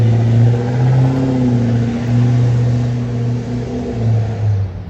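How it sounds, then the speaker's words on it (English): A neighbor's big diesel truck pulls away nearby, a loud droning engine with a steady low hum and slight pitch shifts that ease off toward the end. "you don't want to listen to the neighbor taking off in his big diesel truck"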